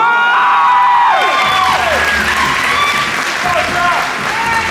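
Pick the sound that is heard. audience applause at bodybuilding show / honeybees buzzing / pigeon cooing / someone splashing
audience applause at bodybuilding show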